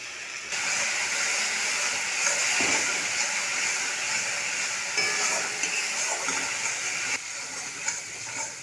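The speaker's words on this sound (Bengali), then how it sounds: "এই তেলেতে দিয়ে দেবো কালো জিরে, লবণ, হলুদ গুঁড়ো, সর্ষে ও কাঁচা লঙ্কা বাটাটা দিয়ে দেবো।" Nigella seeds, salt, turmeric and a mustard and green chilli paste hit hot oil for a fish curry, giving a sustained close sizzle that swells and eases with occasional spattering and stirring.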